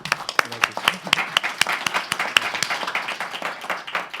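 Audience applause at a book presentation during the Guadalajara book fair: a crowd claps in brisk, sharp, closely spaced slaps that fill the room steadily throughout.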